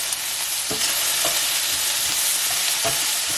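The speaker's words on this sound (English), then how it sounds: "I like to fry my beans." Green beans fry in a pan with a steady, close sizzle, broken by a few light clicks and scrapes as they are stirred.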